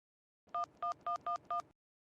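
Five short touch-tone beeps of a telephone number being dialed, evenly spaced and clear, heard alone with no talk.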